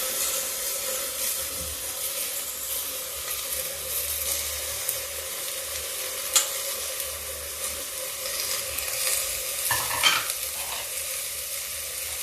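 Cabbage, potato and moong dal stir-fried on low heat in a pan: soft, steady sizzle with a few faint scrapes and small knocks, quiet and continuous, no talking.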